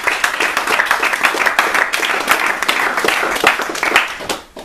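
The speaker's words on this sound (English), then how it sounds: "Guys, give Michael a hand of applause." An audience at a business opportunity presentation claps together in a dense, continuous patter of hands, close and loud, then tapers off sharply in the final moment.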